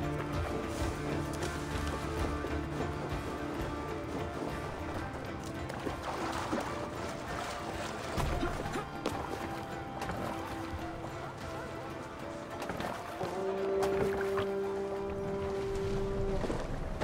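A Viking longship moves across water in Assassin's Creed Valhalla, with steady water wash and rowing splashes under game music and bursts of voices.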